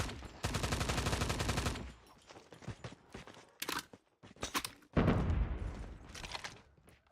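Gunfire in a mobile battle royale game during a tournament broadcast, a dense sustained automatic burst followed by scattered single shots and a heavy crack, loud and close.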